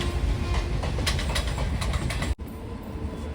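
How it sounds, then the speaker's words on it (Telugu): The Pinakini Superfast Express, running between Vijayawada Junction and Chennai Central, rumbles past loud and close with rhythmic wheel clatter and a continuous rolling roar, broken by one brief dip. "ఇది ట్రైన్ వచ్చేసి మనకు Vijayawada junction to Chennai centre వెళ్ళే పీనాకిని సూపర్ ఫాస్ట్ ఎక్స్ప్రెస్ ట్రైన్ ఇది."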